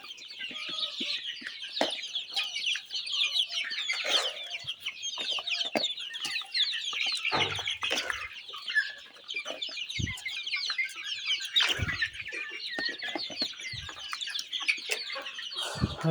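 Free-range desi chickens feeding, a flock clucking and chattering continuously with scattered louder calls and pecking knocks, close by, no talk.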